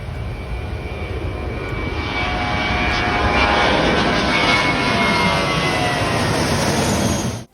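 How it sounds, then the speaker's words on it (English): A plane taking off from the runway right behind a beach resort at Mai Khao Beach, Phuket: a loud, steady jet engine roar that builds slightly and holds close overhead, then cuts off at the end. "Yes, the planes can be quite noisy. They're taking off right behind the resort."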